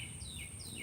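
A bird calling outdoors at a suburban homestead, repeated thin descending whistles, faint and distant over a low steady background hum.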